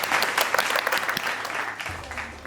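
Studio audience applauding chef Aina at a Masala TV 19th anniversary special show, a dense steady burst of many hands clapping close and loud, easing slightly near the end with a low hum underneath.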